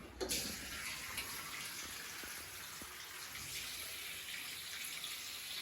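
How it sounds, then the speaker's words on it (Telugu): Tap water runs steadily over tomatoes being washed in a sink, a soft continuous splashing with a few faint knocks, close by and with no talk. "ఇవన్నీ కడుక్కొని తుడుచుకోవాలి ఫస్ట్ కడుగుతుంది"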